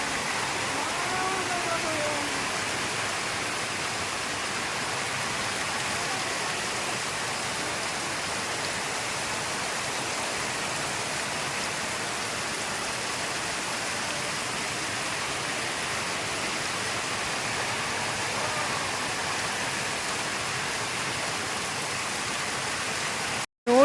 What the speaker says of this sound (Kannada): ಈ ಮಳೆ ಹೆಂಗ್ ಬರ್ತಿದೆ ಇಲ್ಲಿ ಯಾವಾಗ ಮಳೆ ಬರುತ್ತೆ ಅಂತ ಗೊತ್ತಾಗಲ್ಲ ಸಡನ್ನಾಗಿ ಮಳೆ ಬಂದ್ಬಿಡುತ್ತೆ